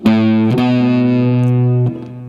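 An A Mixolydian scale plays on an overdriven electric guitar with effects, a few sustained notes changing pitch at steady intervals, loud and alone, with a quieter tail at the end.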